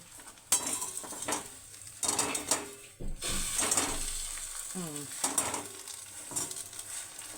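Bread rolls frying in oil in a pan, with loud continuous sizzling and crackling broken by sharp clinks and scrapes of a spatula against the pan, no talking.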